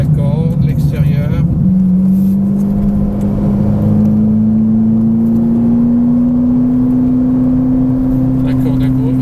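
A Ferrari being driven on a racetrack accelerates steadily, its engine note climbing in a continuous rising drone throughout, while an instructor speaks over it.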